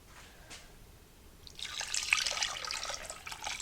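A seasoning mixture is poured over a roast and onions in a crockpot, a close, sputtering stream of liquid that starts midway and splashes steadily after a quiet lead-in.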